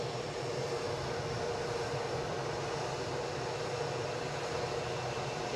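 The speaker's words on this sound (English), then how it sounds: "Right, we've got an aircraft on final approach." An ATR turboprop on final approach to Edinburgh Airport, heard as a steady, broadband engine and airflow roar that holds at an even loudness for the whole stretch, with no talking over it.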